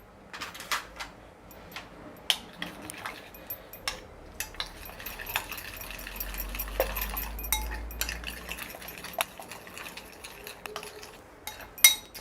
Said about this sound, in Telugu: ఇప్పుడు ఈ ఉల్లిపాయల్లో 2 ఎగ్స్ వేసుకుని బీట్ చేసుకోవాలి.